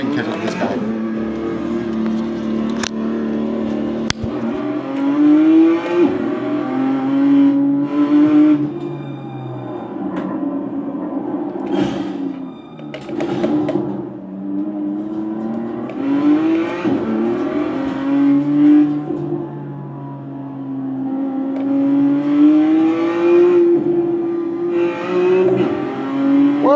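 A race car engine in the iRacing video game revs and shifts continuously through gears over a lap, loud and steady with rising and falling pitch, and someone talks over it at times.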